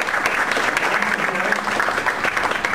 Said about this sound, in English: if you could give Kevin Gillespie a warm round of applause